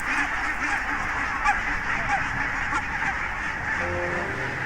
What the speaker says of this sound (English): The barnacle geese are back.